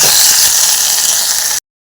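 Tomato hits a pan of frying onions, producing a loud, steady sizzling hiss that holds for about a second and a half and then cuts off abruptly.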